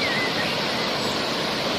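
Steady roar of the Roro Kuning waterfall (Luceret) in its river valley, a dense continuous rush of falling water filling the whole short stretch with no voices over it.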